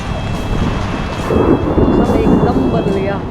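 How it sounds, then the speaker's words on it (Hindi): Heavy rain pours down steadily over the gardens of Shalimar Bagh, with a low rumble of thunder swelling in the middle; the downpour is close and loud, and a faint murmur of voices sits beneath it. "बहुत ही बारिश हो रही है,"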